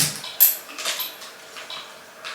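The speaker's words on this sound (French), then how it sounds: "Ensuite c'est le moment de couper le bout des tiges pour enlever le surplus." Cutting pliers snip the excess off the ends of lamp stems, giving a few crisp, close metallic clicks and snaps in quick succession with no talking.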